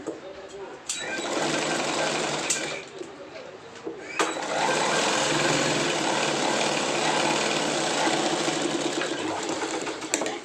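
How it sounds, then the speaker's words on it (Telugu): An electric sewing machine stitching pant fabric runs in loud, close whirring bursts: a brief run, a short pause near two seconds, then a long continuous stretch of stitching, with a voice talking underneath. "నీట్గా ఈ ముక్క ఇలా వేసుకొని స్టిచ్ చేసుకోవాలి"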